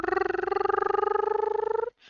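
A voice makes a sustained rolling trill imitating a cat's purr, steady and buzzy for nearly two seconds before stopping abruptly.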